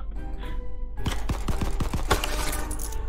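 Gunfire in the video game Crab Game, a rapid burst of about six sharp shots in close succession, loud and near, over a low background hum.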